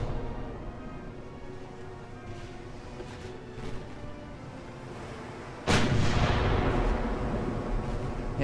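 A warship's main cannon fires in the naval game Ultimate Admiral: Dreadnoughts, one loud, heavy boom landing abruptly after several seconds of rumbling battle noise and then rolling on.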